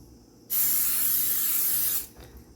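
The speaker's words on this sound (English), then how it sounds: "I'm going to take my butter spray" A butter cooking spray can hisses in one continuous burst of about a second and a half, close by, in an otherwise quiet room.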